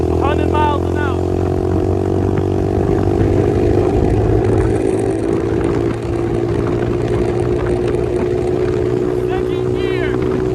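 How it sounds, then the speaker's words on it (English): A pit bike engine revs hard and loud during a top speed run, a sustained near drone that climbs steadily, with brief voices at the start and end. "Top speed run."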